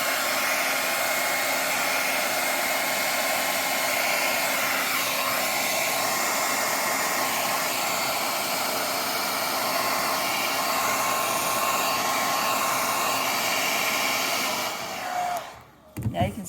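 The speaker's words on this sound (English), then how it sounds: "I'm going to take my hair dryer, and now I'm going to dry it" A hair dryer blows loudly in a constant, close whooshing drone while drying sinamay millinery fabric, then cuts off abruptly near the end with a few clunks.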